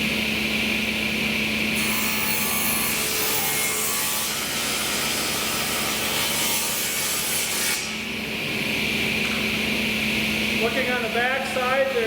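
Steady continuous sawing of wood for a night stand top, a power saw blade running through the board with a constant loud whine and rasp, briefly dipping near the end, with faint talk underneath.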